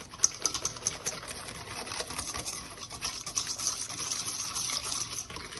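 Hand whisk beating yogurt and caster sugar together in a bowl for an eggless chocolate cake, a close, steady rapid scraping and sloshing that continues throughout.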